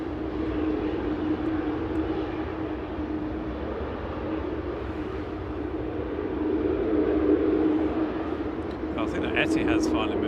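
A heavy airliner arriving at Manchester Airport, a steady distant engine roar and rumble holding for ten seconds with a faint swell midway, while voices talk over it.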